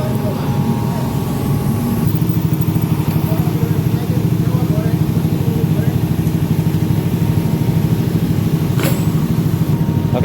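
Honda Beat FI scooter engine running, a steady throbbing rumble with a fast regular pulse, close and fairly loud throughout.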